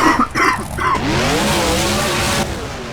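Monster truck in the BeamNG video game, its engine revving loudly and tires scrabbling and squealing as it drives around, with a few rough bumps at the start.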